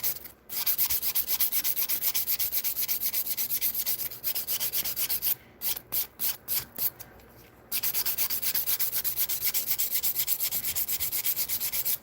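A coarse nail file rasps steadily against a fingernail in long continuous strokes, close and fairly loud, with a short stretch of quick choppy strokes midway before the smooth filing resumes.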